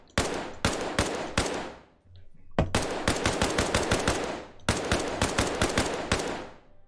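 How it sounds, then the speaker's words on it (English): Automatic gunfire in ArmA: Reforger shooting out windows, loud close bursts of rapid shots with a brief pause, then two long sustained volleys. "Oh, I did shoot these windows out"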